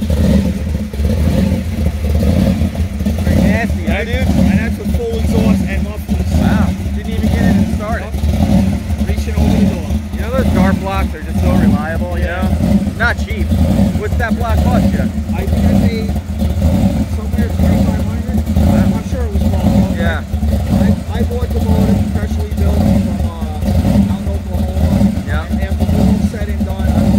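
A loud, close 540 Dart block engine in a 1986 Chevrolet Camaro IROC pro street, with full exhaust and mufflers, rumbles and revs repeatedly, throaty and sustained, with bursts of acceleration throughout.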